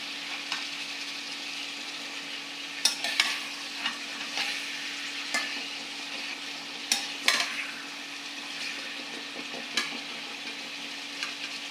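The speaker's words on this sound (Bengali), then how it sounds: "পেঁয়াজটা বাদামি রং করবো একবারে" Onions brown in oil in a kadai on an electric stove, giving a steady, soft sizzle. Irregular scraping strokes of a stirring spoon against the pan break through it, and nobody speaks.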